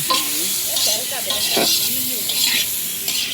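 Potatoes sizzle and hiss frying in a pan, with stirring noises and faint voices murmuring in the background.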